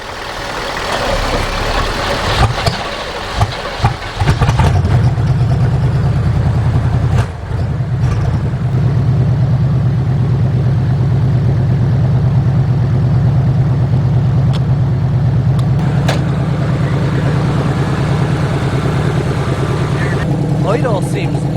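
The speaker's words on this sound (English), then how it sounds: "Idle seems light years smoother" Freshly serviced, tired car engine after an oil change, first revved briefly and then settling into a steady, smooth low idle throughout, close and loud.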